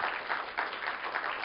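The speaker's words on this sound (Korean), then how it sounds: "손을 들고 박수 한번 맞춰주세요." A church congregation at a Friday evening worship service claps hands together in a steady, rhythmic unison, dense and continuous throughout.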